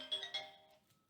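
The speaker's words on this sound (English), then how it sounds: "Should have had my phone on silent." A phone ringtone briefly chimes, three quick bright electronic tones that fade out within a second, with no talk over it.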